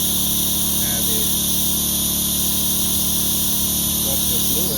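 A coolant refill tool running on a 2012 Jeep Liberty 4x4 Limited engine during a thermostat replacement, giving a loud, steady, high-pitched mechanical whine and hiss that holds unbroken throughout, with someone talking over it.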